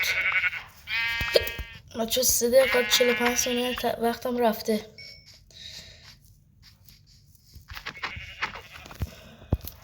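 Sheep in a video game bleat several times in short, wavering cries, loud and close, while a person talks between and over them.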